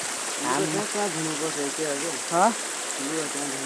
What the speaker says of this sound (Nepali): हेर्नु खोला यस्तो छ, यतातिर पनि छ सबै।